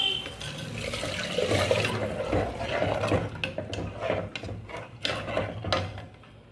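Tamarind mixture dissolved with paste is poured into a pot of fish curry, giving a steady splashing, gurgling liquid pour close by that runs for several seconds with small clinks of the vessel near the end.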